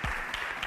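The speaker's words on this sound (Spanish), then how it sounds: "Hay gente que aplaude raro." A brief burst of studio audience applause rings out on a Spanish TV talk show, a short patter of many hands clapping at once.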